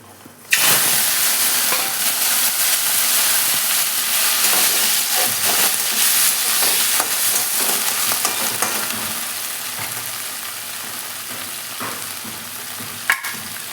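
Chopped dhemsi (tinda) drops into hot tempered oil and fries with a loud, steady sizzle that begins abruptly and continues throughout, with occasional stirring scrapes and a sharp clink near the end.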